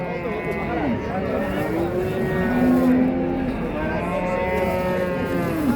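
Long low mooing from cattle at a livestock market rises and falls over a steady background rumble, with a person talking throughout.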